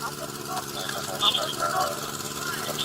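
A motorcycle engine idles steadily beside a roadside police stop, a low continuous rumble running the whole time beneath the shouting and talk of officers and the rider.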